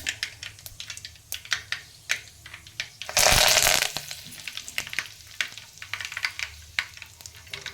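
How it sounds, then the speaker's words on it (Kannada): Mustard seeds and cumin popping and spluttering in hot oil, with rapid sharp crackles, then a loud burst of sizzling hiss as curry leaves go in before the popping resumes, close up and without talk. "ಸಾಸಿವೆ ಚಟಪಟ ಅನ್ನಲಿ. ಈಗ ಕರಿಬೇವು ಹಾಕ್ತೀನಿ."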